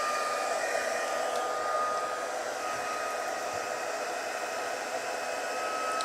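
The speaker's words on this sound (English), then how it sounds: "I'm going to put my heat tool on" An embossing heat tool blows steadily during card crafting, a constant airy whoosh like a hair dryer, moderately quiet and unbroken throughout.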